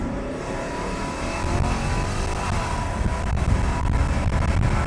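A 1997 BMW E39 540i launching hard toward 60 mph with a left-foot-brake start, its engine a loud, steady rumble that builds slightly as it pulls, heard from inside the car with no talk.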